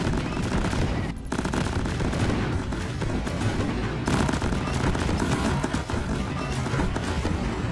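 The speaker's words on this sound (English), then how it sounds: "so I'm doing multiple explosions." Multiple video game explosions triggered through a wide lens with a larger damage radius form a loud, dense, continuous barrage of crackling blasts and rumbling booms, with a brief gap near the start.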